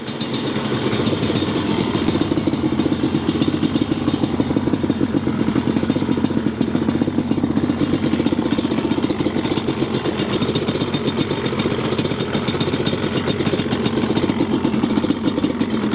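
A 2001 Yamaha Banshee ATV engine idles loudly and close by, a steady rattling two-stroke burble that holds an even pace without revving.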